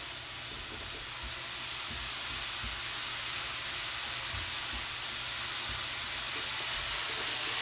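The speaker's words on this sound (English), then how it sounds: "look at the steam. I haven't done a video with lots of steam in a while." Steady, loud broadband hiss of steam rising off freshly baked twice-baked acorn squash, continuous and even throughout with faint low rumbles underneath and no talking.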